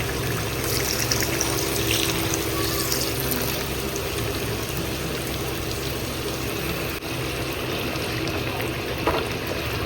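Water is poured into a pepper chicken gravy cooking in a pan, a steady continuous splashing and trickling wash that holds at an even level throughout with no talk.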